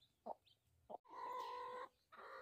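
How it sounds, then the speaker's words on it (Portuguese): A brooding hen clucks at close range in short separate bursts, then gives a longer, steadier drawn-out call, with a quieter stretch of sound at the end. "Vou mostrar aqui a minha terceira galinha."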